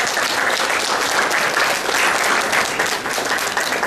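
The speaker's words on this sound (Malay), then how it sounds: "Berikan tepukan kepada koperasi sekolah." A seminar audience at an ANGKASA event on business opportunities for university cooperatives applauds school cooperatives with dense, steady clapping that fills the room without a break.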